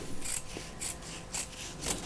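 Scissors snip through two pinned layers of fabric for a homemade gift bag, close and crisp, with about four evenly spaced rasping cuts and no talking.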